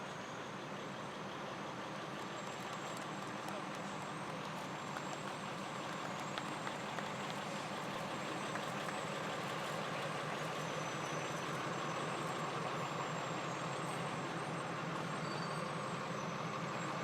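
West Ridge Volunteer Fire Company No. 3 fire truck from North Haven, Connecticut rolling past in a firefighters' parade, its steady broad engine rumble and road noise filling the street without a break.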